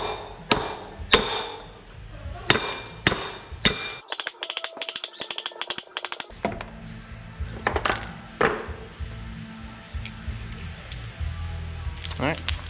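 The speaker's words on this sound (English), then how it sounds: "start beating it with a hammer" Sharp metallic hammer strikes on a truck wheel hub, knocking out broken wheel studs, ring out repeatedly, loud and close, with a burst of harsh noise partway through and lighter clinks after.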